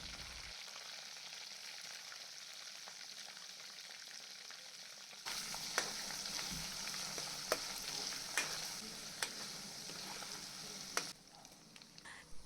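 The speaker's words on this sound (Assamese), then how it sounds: "এতিয়া মই দিম ইয়াতে পিহি থৈ দিয়া সৰিয়হখিনি আৰু ধুনীয়াকৈ লৰাই দিম।" Ground mustard hits hot mustard oil in a pan and sizzles and fries steadily up close, with occasional clinks and scrapes from stirring.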